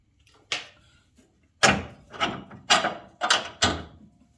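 Sharp metallic knocks and clanks from work on the steering idler arm of a 1974 Pontiac Trans Am with a 455 engine, about five distinct impacts in an irregular rhythm, close and fairly loud, with no talking.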